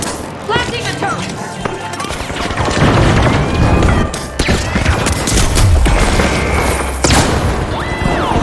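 A turret is blasted with explosions in The Finals video game: loud, dense booms and crashing gunfire roll on continuously, with a voice speaking underneath the barrage.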